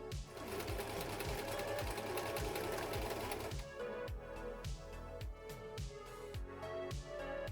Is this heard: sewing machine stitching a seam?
yes